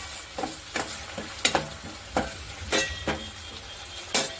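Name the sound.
stirring okra gravy with crushed peanuts in a pan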